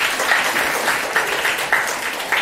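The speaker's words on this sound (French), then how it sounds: "Encore des applaudissements pour Abdoulaye Ndiaye Ngalgou." An audience in Mboro gives a continuous round of applause for an honoured guest, many hands clapping evenly with a few sharper claps standing out.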